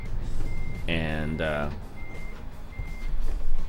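Truck reversing beeps in the American Truck Simulator game, a steady tone repeating at a moderate pace under a voice, with a brief harmonic engine or horn swell near the start.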